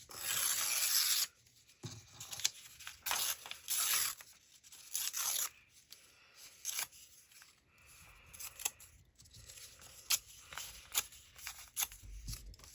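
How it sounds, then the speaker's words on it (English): Paper torn into strips by hand for a patchwork junk journal page, a run of close, crisp rips and rustles in irregular bursts, with no talking. "I'm just going to tear these up."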